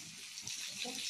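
Water poured into a pan while making thalipeeth, a steady close splash and trickle lasting the whole moment with no talking.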